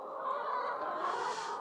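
Hens in a henhouse give a continuous, soft murmur of clucking and low calls, steady and close, with no voices over it.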